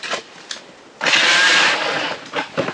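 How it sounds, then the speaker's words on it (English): An ION electric ice auger whirs loudly for about a second as it recuts a refrozen hole through thick lake ice topped with a frozen snow crust, preceded and followed by brief scraping thumps. "The nice thing about the ion auger is you can recut the same hole without it skittering all over the place"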